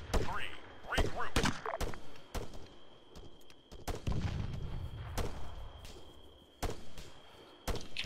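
Grenade blasts and gunfire in ArmA 3 combat: sharp, loud shots and booms crack out at irregular intervals, one heavier rumbling explosion in the middle, with voices talking over the fighting.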